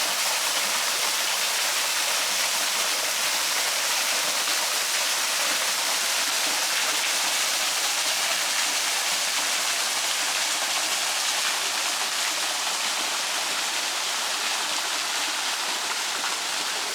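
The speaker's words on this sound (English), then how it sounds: "we're in the most beautiful creek right here, right at this waterfall" Waterfall at a rainforest creek in Australia pours in a steady, dense roar of rushing water that stays constant and close throughout, with no voices over it.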